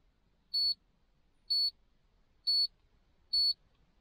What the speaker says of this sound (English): Okay, I'm still getting this alarm.